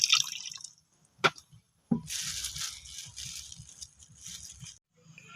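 A little water poured over grated coconut in a bowl while making a pitha filling: a steady trickling splash for a few seconds, preceded by a couple of sharp clinks.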